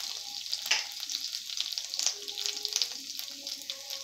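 Ginger and garlic sizzle in hot oil in a pan, a close, steady frying hiss with faint scrapes of stirring running throughout.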